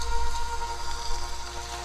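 Steady rain falls in the horror video game One Night 2, a continuous hiss of drops on surfaces held at an even level throughout, with a faint low hum beneath and no voices.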